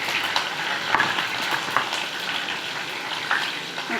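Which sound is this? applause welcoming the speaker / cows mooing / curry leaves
curry leaves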